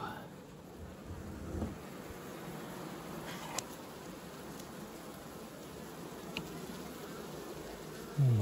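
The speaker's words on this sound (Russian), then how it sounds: "летные пчелы много" A low, steady drone of honey bees at a hive being opened to merge a swarm with a mite-weakened colony, faint and continuous with a few soft handling knocks and a bump at the end.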